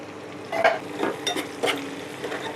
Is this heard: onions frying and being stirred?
yes